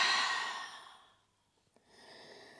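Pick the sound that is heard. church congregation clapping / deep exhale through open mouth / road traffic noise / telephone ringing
deep exhale through open mouth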